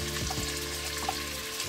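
Steady broadband sizzle of onions and bay leaves frying in butter in a saucepan, continuous and fairly loud, with faint clinks and stirring noises.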